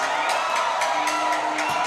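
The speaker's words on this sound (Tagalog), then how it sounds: "The crowd is going wild" Crowd at a youth basketball game cheering and shouting in a gym, a dense wash of voices with rising whoops, loud and continuous for a couple of seconds.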